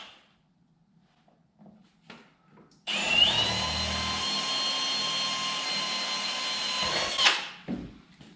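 A power drill with a long bit bores into the firewall of a 1986 Chevy K5 Blazer, running steadily for about four seconds after a few light clanks, then stopping with a clatter.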